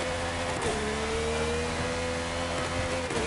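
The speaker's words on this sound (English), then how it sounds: "grrrr from the low gear up? That's a McLaren." McLaren Formula 1 engine growling as it pulls up from a low gear, a loud, steady, close mechanical drone with a brief dip near the start and no talking.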